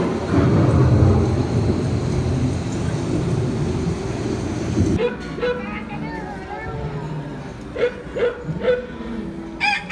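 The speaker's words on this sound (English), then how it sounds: "The approaching storm may seem violent and destructive to us" A simulated approaching thunderstorm on an EPCOT ride rumbles with heavy, continuous thunder and rain for several seconds, then gives way to a quieter scene with chirping calls and scattered sharp sounds.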